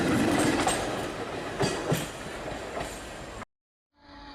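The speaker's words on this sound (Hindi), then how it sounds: "आइए प्लेटफॉर्म नंबर 4 की ट्रेन पे" A passenger train at an Indian railway platform rumbles past with rhythmic wheel clatter and a few sharper clacks, fairly loud and steady, before the sound cuts off abruptly into silence and then faint background noise.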